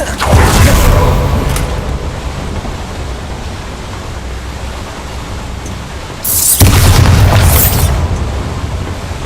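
A Bombarda spell in Hogwarts Legacy goes off as a loud, close boom with a rushing, noisy blast that fades, then a second heavy burst erupts near the end.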